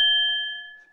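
A synthesized bell impact, made by modal synthesis and resized to sound larger, rings as a single clear struck tone with steady partials that decay smoothly over about a second, alone.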